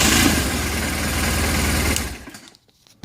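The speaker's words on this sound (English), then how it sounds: "So I'll start the bike" A BMW R1200RT-P police motorcycle engine runs at a steady idle just after starting, a loud even mechanical churn that holds for about two seconds before the key is switched off and the sound dies away.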